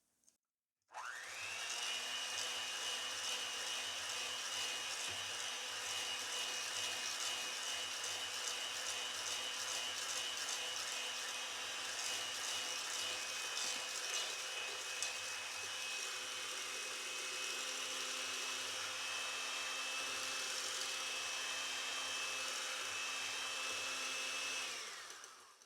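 An electric mixer whirs steadily while beating cake batter for a Yule log cake, a continuous close motor drone that runs for about 24 seconds after a sudden start, then cuts off at the end.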